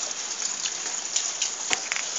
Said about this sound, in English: So the rain is dying down